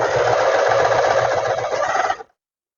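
A sewing machine stitching a seam in fabric for a pair of trousers runs in one continuous close burring whir, then stops abruptly near the end, leaving silence.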